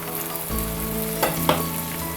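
Ginger frying in hot oil in a pan, a steady close sizzle with a couple of brief louder spits and stirring sounds.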